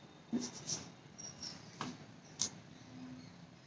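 Chalk or pen scratching out words on a board in a Hindi class, a run of faint close strokes and taps in a quiet room.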